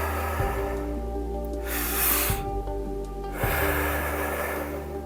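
Slow, deep breaths in and out during a breathing exercise make long airy rushes, about two or three full breaths, over a steady low background hum.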